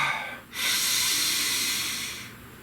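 One long, deep breath is drawn in and slowly released, a close, steady airy hiss lasting about two seconds after a short initial inhale.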